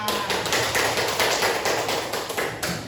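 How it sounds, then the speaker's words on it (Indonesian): Classmates in a teacher-training history class clap for a group, a steady, fairly close patter of hand claps filling the short moment without any talk. "Boleh tepuk tangan kelompok 5."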